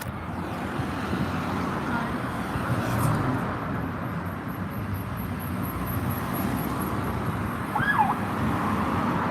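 From inside a moving car, a police siren wails faintly in the distance over the steady rumble of road noise. A brief rising sweep of the siren stands out near the end.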